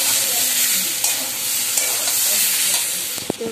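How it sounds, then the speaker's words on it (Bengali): Potatoes frying in a pan for aloo bhaja, a loud continuous sizzle with occasional scrapes and clinks of stirring, close up and without talk. "তো তারপরে আমার আলু ভাজা এরকম হয়ে গেছে, এবার নামিয়ে নেবো আলু ভাজাটা।"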